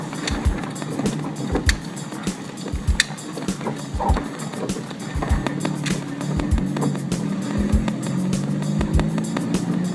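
A car drives off-road over bumpy, rough terrain, with steady engine rumble and repeated thuds and knocks from the suspension and body jolting over uneven ground.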